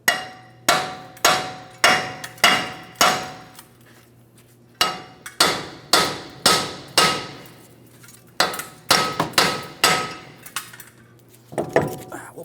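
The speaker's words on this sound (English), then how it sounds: "So we're just going to carefully tap on this and breaking it free." A hammer taps steadily on a Ford Transit-250 front steering knuckle to break the wheel bearing free, sharp metallic strikes in quick bursts with short pauses, close and loud, no talk.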